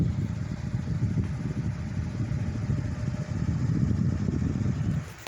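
A ceiling fan runs on its low setting, giving a steady, fairly quiet whooshing hum of moving air and motor that holds even throughout, with no talking.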